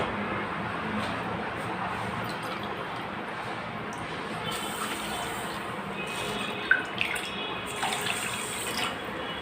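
Water runs from a tap into a bowl holding a cup of sugar, a steady close trickle with a few small drips and clinks near the end.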